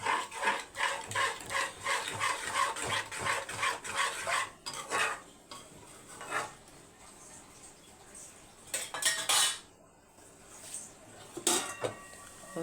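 A spoon rhythmically mixing rice in a pan for egg rice, quick repeated metallic scrapes and taps close by, then pausing into scattered clinks and louder clatters; a faint voice appears briefly.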